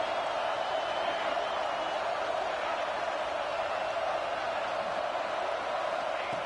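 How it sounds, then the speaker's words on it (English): Sustained stadium crowd roar at a football game during a red zone defensive stand, a dense, steady wash of massed voices holding at even loudness throughout. "And here comes the noise. This crowd is trying to inspire this defense to make a big red zone stop."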